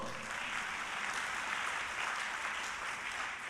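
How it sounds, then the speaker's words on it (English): A conference audience of postgraduate students and lecturers claps steadily, a continuous, fairly distant and soft patter of applause throughout. "Don't you want to applaud?"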